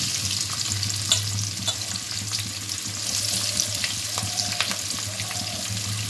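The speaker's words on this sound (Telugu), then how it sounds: "సన్నగా కట్ చేసుకొని ఆనియన్స్ వేసుకొని వేయించుకోవాలి" Thinly sliced onions fry in tempering oil, a steady close sizzle with occasional stirring scrapes running throughout, with no talking.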